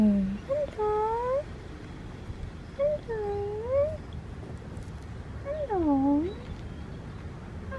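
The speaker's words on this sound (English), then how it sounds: "It's a needy cat." A house cat meows three times at a door, each call a rising and falling whine spaced a couple of seconds apart, over a low background hum.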